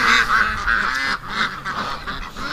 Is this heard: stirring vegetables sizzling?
no